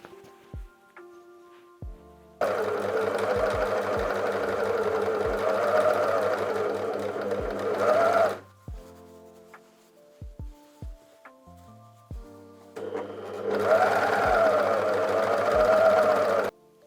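Sewing machine stitching the inseam of shorts, running in two steady, close mechanical bursts of rapid stitching, the first about six seconds long and the second about four, separated by quiet handling clicks.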